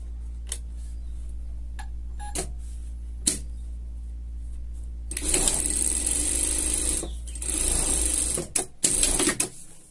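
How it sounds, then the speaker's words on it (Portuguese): Sewing machine stitching a seam joining two sides of a denim jacket, a loud close mechanical whirring run after a stretch of quiet clicks and handling, stopping and starting in bursts. "Aqui, a gente vai passar uma costura aqui juntando, tá?"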